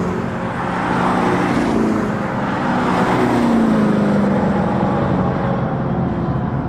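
Electric Dodge Charger Daytona playing a simulated V8 exhaust sound as it drives past on a race track, a loud continuous roar that swells and fades over several seconds with no talking.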